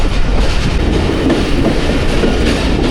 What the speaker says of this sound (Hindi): तो जी दरियाए झेलम के ऊपर से पास हो रही है 46 डाउन पाकिस्तान एक्सप्रेस।